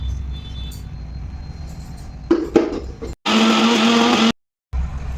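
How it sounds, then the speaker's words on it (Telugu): A loud, steady motor whine of a small mixer grinder making wheatgrass paste runs for about a second, cuts off abruptly, then starts again, with clinks and rattles before it. "చిన్న మిక్సీ జార్లో వేసి చక్కగా పేస్ట్ చేసుకుందాం బాగా మెత్తగా రుబ్బేసుకుందాం"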